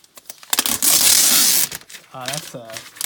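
Close crinkling and tearing of plastic wrapping on an iPad Pro 12.9-inch, a burst of loud rustling, followed by a few spoken words.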